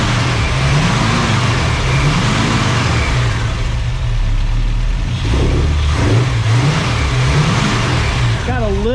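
Engine of a rusty 1965 Ford Mustang running after a timing adjustment, loud and close, with a rough idle that rises and falls through repeated revs, a slight hesitation, and voices talking over it.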